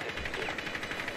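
Rapid automatic gunfire in a video game, shots fired through the floor, rattles in a fast, even burst that stays loud and continuous with no talk over it.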